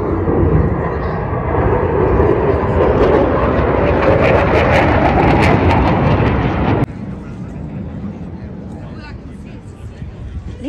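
A jet aircraft roars loudly past at an air show over the ocean, its engine noise sustained and heavy for about seven seconds before dropping abruptly to a quieter, more distant rumble.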